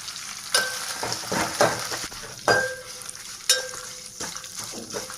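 Urad dal, curry leaves and chillies frying in hot oil as a tempering for coconut chutney: a steady close sizzle broken by several sharp clatters and scrapes of stirring.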